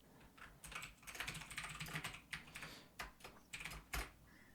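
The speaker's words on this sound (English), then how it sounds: "heard typing and I was like, is somebody doing it?" Fingers type on a computer keyboard in quick, irregular bursts of clicks, close and fairly quiet, with no talking.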